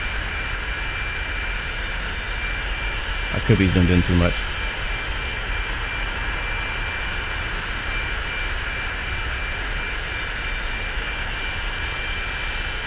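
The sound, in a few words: Hawker 4000 jet taxiing by in the video game X-Plane 11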